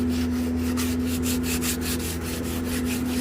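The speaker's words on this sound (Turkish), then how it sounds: "Zımparayı sürtüyoruz." Rhythmic back-and-forth scraping of sandpaper on a Meridian 391 boat hull, repeated strokes at a steady pace over a constant low hum.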